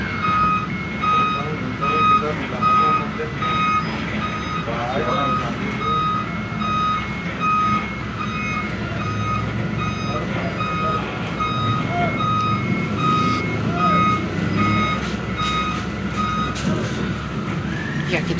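A TransJakarta bus gives steady, evenly spaced electronic reversing beeps, loud and continuous under engine rumble, with people talking nearby throughout.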